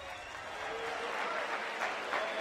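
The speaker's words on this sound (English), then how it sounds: "let's give a big round of applause for both of these gladiators" An MMA event crowd applauds the fighters after the bout, a steady wash of clapping heard at a distance and moderately faint.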